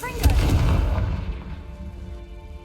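A Confringo spell explosion in the video game Hogwarts Legacy lands as a loud, close boom that swells and then fades into a rumbling decay over a couple of seconds.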